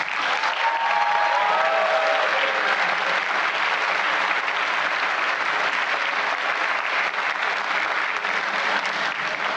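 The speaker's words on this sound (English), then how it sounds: "Let's give them a big round of applause." A large audience at a high school senior awards night claps for graduating seniors of the class of 2023, the applause loud, dense and continuous from start to finish with no talking on top.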